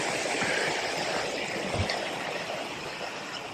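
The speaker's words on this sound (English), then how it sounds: "Turns out it's hydrothermal sulfur pots." Hydrothermal sulfur pots bubble and gurgle in a steady, dense watery rush, close and continuous with a few soft low plops.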